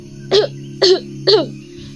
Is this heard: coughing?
yes